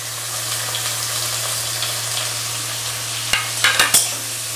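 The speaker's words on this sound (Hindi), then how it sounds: "টমেটোটা একটু ভাজা ভাজা হয়ে গেছে, এবারে আমি পেঁয়াজটাও দিয়ে দিচ্ছি।" Tomatoes fry in a pan for a Bengali-style moong masur dal, giving a steady broadband sizzle with a low hum beneath, then a few sharp knocks and clatters near the end as onions are tipped in.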